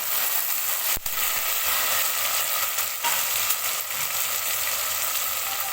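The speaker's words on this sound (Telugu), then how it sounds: "ఈ మాత్రం వేగిన తర్వాత 2 చిన్న టమాటాలు, 2 పచ్చిమిర్చి వేసేసుకుందాము." Small tomatoes and green chillies fry in a pan for a brinjal, potato and chana dal curry, giving a steady loud sizzle with a couple of brief clunks from the pan.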